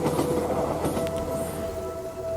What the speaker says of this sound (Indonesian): Beberapa detik kemudian kereta itu pergi. Suara rodanya pun perlahan-lahan menghilang di kejauhan.